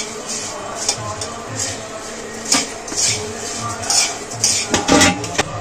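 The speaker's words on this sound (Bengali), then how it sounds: "মুড়িটা ভাজতে ভাজতে দেখুন মচমচে হয়ে গেছে" Puffed rice is dry-fried in a wok, with a metal spatula scraping and clanking against the pan in an irregular, close rhythm as the grains are stirred, and no voices.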